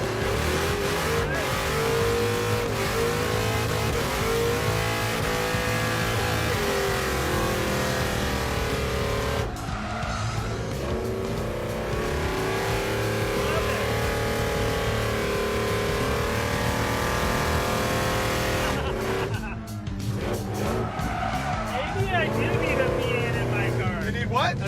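A V8 engine in a muscle truck revs and pulls loudly and steadily for the whole stretch, its pitch rising and falling with the throttle, while people talk over it.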